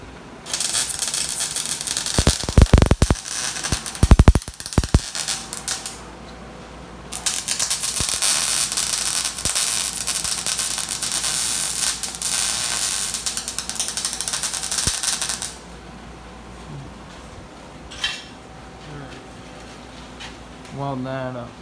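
A rusty Toyota frame is welded up close by, producing a loud, steady crackling hiss for several seconds, preceded by a few sharp bangs and followed by quieter handling noise and voices.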